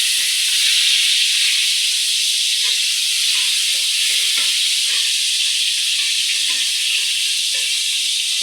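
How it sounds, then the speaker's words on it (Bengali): Tomatoes frying in a pan, giving a loud, continuous hiss and sizzle heard up close, with faint stirring ticks underneath and no talking. "টমেটোগুলো একটু ভেজে নেব, একটু নরম হবে।"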